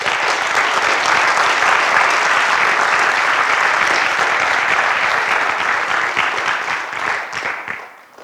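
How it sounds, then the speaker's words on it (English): An audience at an FFA agriculture program celebration applauds loudly and steadily for about seven seconds, the dense clapping thinning and tapering off at the end. "Let's give them another round of applause."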